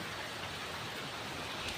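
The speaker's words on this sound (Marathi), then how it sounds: "आणि पाऊस लागतोयच ना भिजत यायला होतं" Steady, soft hiss of rain falling on surfaces, even and continuous, fairly quiet with no voices.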